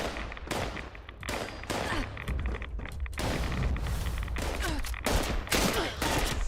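Rapid bursts of gunfire in the online game Fallout 76, dense overlapping shots and volleys continuing steadily throughout, loud and close with no pauses.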